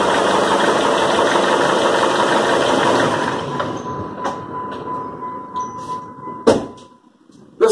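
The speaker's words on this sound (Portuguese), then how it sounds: "O motor desse carro aqui que é um PT Cruiser. Vou ligar aqui, galera." Chrysler PT Cruiser engine running in a garage, a steady loud idle with a whining tone that drops off partway, leaving quieter clicks and a thump after the engine stops.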